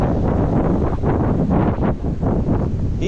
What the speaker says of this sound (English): This wind is unbelievable.